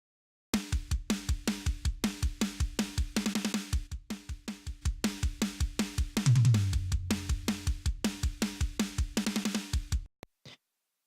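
Modern metal drum kit heard through a heavily pushed parallel compression bus with strong makeup gain, dense rapid kick and snare hits pumping loudly, a low boomy tom run near six seconds, stopping abruptly at the end.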